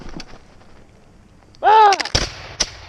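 Muskets fire in a loud, close volley at an outdoor winter reenactment of a 54th regiment, with a shouted voice rising just before the blast and the boom decaying briefly.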